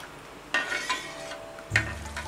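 Jaggery syrup stirred into simmering chana dal (kadala parippu) payasam in a pan, giving soft bubbling and stirring scrapes with two louder clinks of a spoon against the pan, close and moderately quiet.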